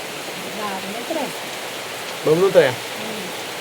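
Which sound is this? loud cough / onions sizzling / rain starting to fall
rain starting to fall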